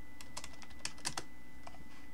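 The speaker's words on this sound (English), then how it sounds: "type in UV map" Quick light clicks of a computer keyboard as a short phrase is typed into a 3D software tutorial, a brief irregular burst of close keystrokes over a quiet background hum.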